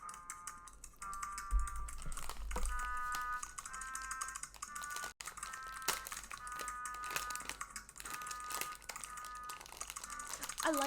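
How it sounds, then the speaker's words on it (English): Keyboard typing clicks along steadily beneath a busy background, with some crinkly noise and faint tonal sounds mixed in. "I really like the sound of the typing."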